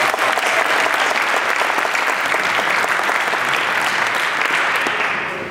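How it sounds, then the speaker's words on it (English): A crowd at a community medical marijuana event bursts into loud, dense applause, sustained steadily for several seconds before beginning to fade at the end. "Really quickly, a round of applause for Vivian McPeak."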